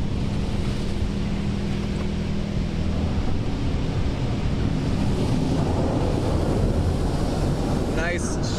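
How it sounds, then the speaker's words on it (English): High-pressure rinse of a PDQ LaserWash 360+ touchless car wash, a loud constant roaring spray heard from inside the car, steady throughout with a brief whine near the end. "Listen to that pressure washer."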